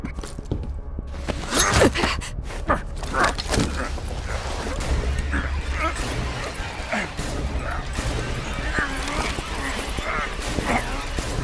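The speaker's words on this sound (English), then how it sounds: "That street dog should have been put down long ago." A street dog in Call of Duty: Black Ops Cold War barks and yips repeatedly at close range, the sharp bursts scattered across ambient game sound with voices speaking throughout.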